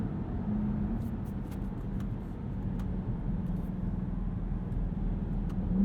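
A 2020 Dodge Durango SRT's V8 engine hums steadily while driving, a deep low rumble heard from inside the cabin with a few faint clicks and taps over it.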